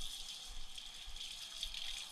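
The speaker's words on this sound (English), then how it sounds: "get some water running" Water runs steadily from a kitchen tap while a fish is being filleted, a constant hissing splash close by that lasts throughout with no talk over it.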